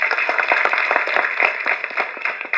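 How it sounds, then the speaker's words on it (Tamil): Live audience applause at a Tamil film audio launch event, dense steady clapping from a crowd throughout, fairly loud and continuous with no speech over it. "இதுக்கு ஒரு கைத்தட்ட வேண்டாமா?"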